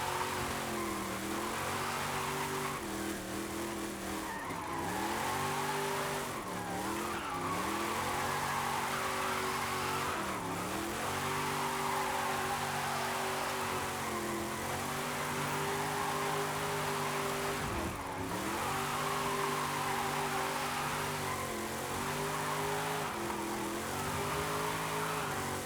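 A 400-horsepower car in Forza Horizon 5 held in second gear, its engine droning steadily with repeated rises and dips in pitch as it revs through corners, loud and continuous with no talking.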